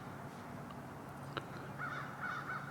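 Crows caw from a distance in a quiet early-morning woodland during a Wisconsin deer gun season hunt, a few harsh calls repeated in a short series near the end over steady low background hum.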